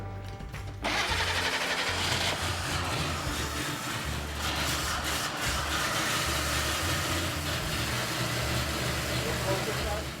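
A vintage Jeepster truck engine cranks and catches within the first second, then runs at a loud, rough, steady idle with rhythmic mechanical clatter, while people talk near it.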